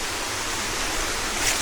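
Small waterfall in a Philippine park with only a trickle of water flowing, a steady soft hiss of falling water with a slight rise at the end, no voices.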